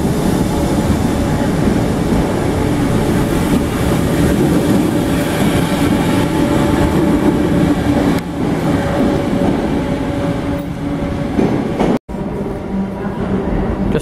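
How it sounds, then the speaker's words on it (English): Class 507 electric train 507033 pulling out of Liverpool Central underground station, a loud, steady rumble of motors and wheels on rail that fills the whole stretch, with a brief dropout near the end. "just departing this 507033 to Kirkby"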